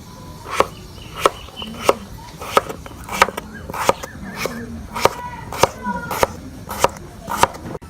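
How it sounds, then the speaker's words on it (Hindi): A knife chops potatoes on a cutting board, about a dozen sharp, evenly spaced knocks roughly every half second, close and clear with no talking. "आलू की कटाई है ये अपने हिसाब से भी आप कर सकते हैं।"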